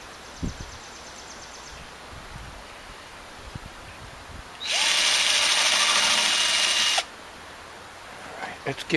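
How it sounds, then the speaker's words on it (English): A high-pitched drill with a very fine bit pre-drills screw holes on a swing top, whirring steadily for about two seconds, then stops; quiet handling noises and faint clicks before and after. "Now I got a pre-drill with a very fine bit"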